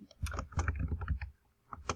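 Quick, uneven clicks of typing on a computer keyboard while formatting an APA paper, close and fairly soft, in bursts with a short pause near the end.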